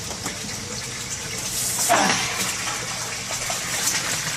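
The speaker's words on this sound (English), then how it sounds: "now the bell siphon is starting, as you can see" Water gushing and gurgling steadily as a bell siphon drains an aquaponics grow bed, with a brief surge partway through, close and fairly loud.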